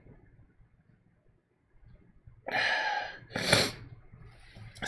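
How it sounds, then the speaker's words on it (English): A person sniffling during a livestream painting session: quiet room tone, then two sharp close nasal sniffs about a second apart, the second louder and breathier. "excuse me, sniffle"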